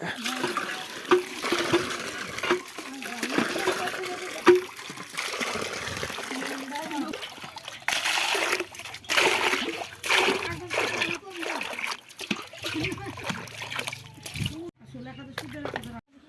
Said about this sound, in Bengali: আজকে জল দিতে হবে ফুল গাছে